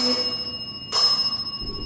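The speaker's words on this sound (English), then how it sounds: "So something just touched the bear and set the bell off." A small bell on a ghost-hunting device inside a teddy bear rings with a bright, sustained metallic tone under faint room noise, with a second sharp strike partway through.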